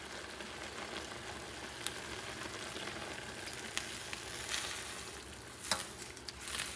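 A Thai vegetable stir fry sizzles steadily as sauce is poured in, a dense continuous frying hiss with occasional faint clicks, close and fairly quiet, no talking.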